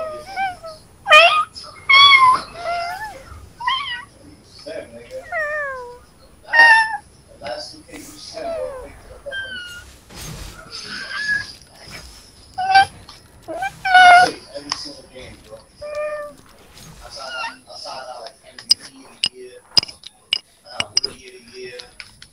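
A person imitates cat meows during a Fortnite gaming session, giving a series of varied, pitched meow-like calls spread across the stretch and mixed with speech and laughter.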